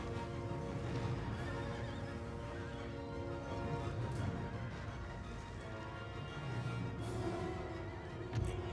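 Horses in the strategy game Empire: Total War neigh and whinny repeatedly amid battlefield noise, with hooves clopping underneath and a sharp sound near the end.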